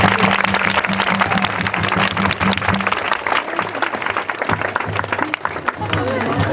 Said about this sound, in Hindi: एक बार और जोर से ताली बजाएंगे।